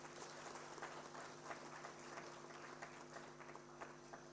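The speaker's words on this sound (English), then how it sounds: "let us wholeheartedly applaud this department and for their endeavor for O-PMD Hub" An audience applauds at an oral health hub inauguration held at a New Delhi medical college, giving a faint, steady patter of clapping heard from a distance in a large hall.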